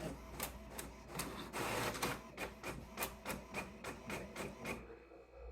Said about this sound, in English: Didn't tell my printer to print anything.